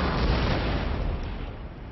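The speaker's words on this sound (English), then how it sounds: "the only problem is this friggin' artillery over here" Artillery fire in the Empire: Total War strategy game, a dense, rumbling barrage of booms blending into a continuous roar that slowly fades.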